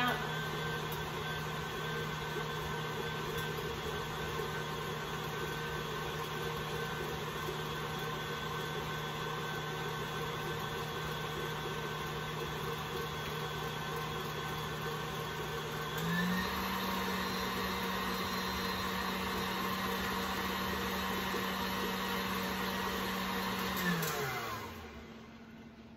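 An electric mixer with a whisk attachment beats cream cheese and butter, giving a steady, loud motor whir that runs without a break, shifts pitch slightly partway through, then winds down at the end.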